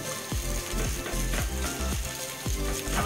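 Potatoes and garlic fry in a pan for a street-food masala, giving a continuous close sizzle broken by repeated scraping stirs about every half second.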